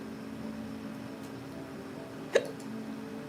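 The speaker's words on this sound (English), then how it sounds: "Lord, I got hiccups." A single short hiccup sounds once, fairly close, against a steady low background hum with no talking around it.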